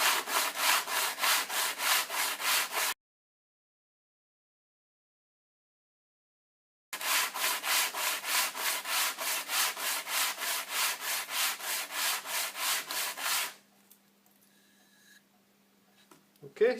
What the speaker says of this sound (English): So the way we're going to work on that is use one of these sandpaper boards. So we'll use that in a back and forwards motion